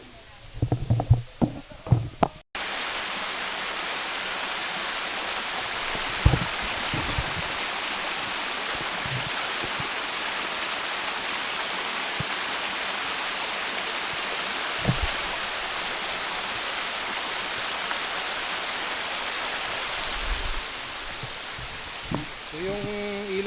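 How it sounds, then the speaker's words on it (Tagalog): A mountain river rushes downhill high on a slope, a steady broadband roar of flowing water that fills the scene after a brief opening of speech, with faint voices and small knocks now and then. "So yung ilog na yan ay papunta dun sa baba."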